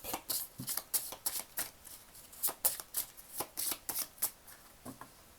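Oracle cards are shuffled by hand in a quick, close series of soft riffling flicks and slaps, about two or three per second, with no voices over them.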